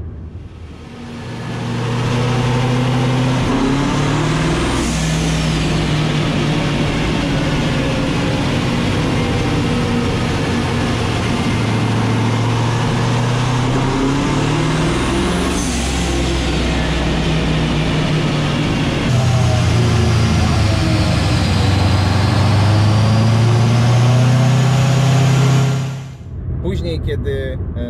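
A BMW E92 fitted with a 7.0L twin-turbo V8 runs hard on a dyno, loud and close. A deep engine roar climbs through repeated long pulls with rising whines, then cuts off sharply near the end.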